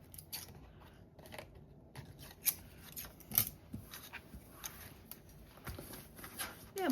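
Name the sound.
scissors trimming a paper tag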